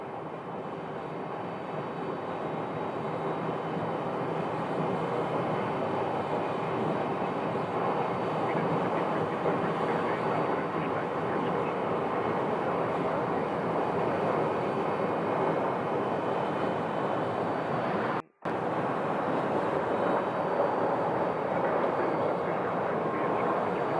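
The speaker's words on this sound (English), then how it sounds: "So there's the 737-800 landing from Detroit." A Boeing 737-800 airliner landing at Phoenix Sky Harbor Airport gives a steady, loud, broadband roar of jet engines and rushing air. It holds constant for the whole stretch, with one brief dropout near the end.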